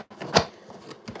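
A deck of tarot cards shuffled once, a brief papery riffle with a soft flutter and a tap at the end, close and quiet.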